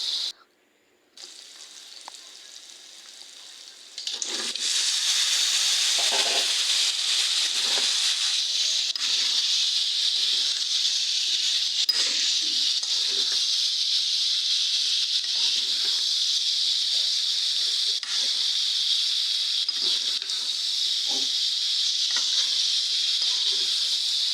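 Shrimp and banana pieces fry in a pan with a little turmeric, giving a steady, loud sizzle that swells after a quieter start and carries on with faint stirring scrapes underneath.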